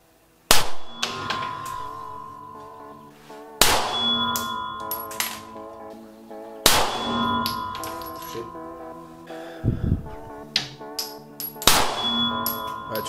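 A Sphinx SDP Compact 9mm police pistol fires five loud, sharp shots in succession, spaced about three seconds apart, each followed by a ringing metallic decay.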